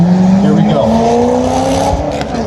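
A car being started and revved at an outdoor car show, engine note climbing in a loud, steady rising drone close by, with chatter from onlookers mixed in.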